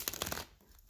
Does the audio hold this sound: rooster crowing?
no